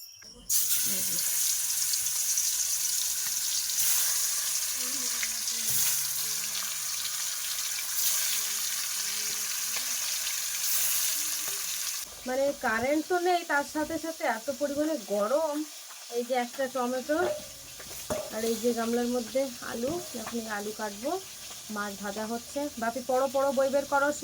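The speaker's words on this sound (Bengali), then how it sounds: "পাঙাশ মাছ ভাজতে অনেক সময় লাগে হ্যাঁ আবার তেল ছিটকায়" Pangas fish frying in hot oil on a home stove on a stormy, rainy night, a steady broadband sizzle running throughout, with someone talking over it for the second half.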